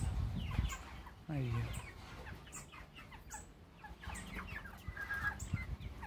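Naked neck chickens on a small farm cluck and call nearby, with a rising vocal note and scattered clucks throughout, as someone speaks briefly.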